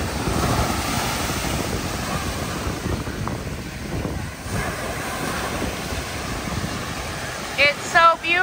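Ocean surf at Myrtle Beach, a loud continuous wash of waves with heavy wind buffeting the microphone, and a brief voice near the end.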